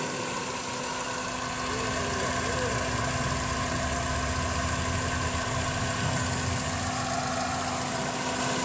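A Toyota Corolla engine idles with the bonnet open, giving a steady, fairly faint hum with a constant tonal whine and a slight abnormal note, heard close by.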